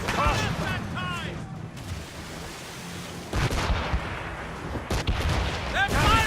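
Ship cannon fire in Assassin's Creed Rogue rumbles as deep booms and a sustained roar, under shouted voices and battle clamour.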